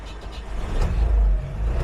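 A cold 1990 UAZ-469 engine cranks and catches, its low rumble building and holding steady near the microphone with no talk over it.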